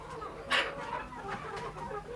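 Desi chickens on a poultry farm cluck in short, soft bursts, several hens calling in a loose rhythm at moderate distance against low background noise.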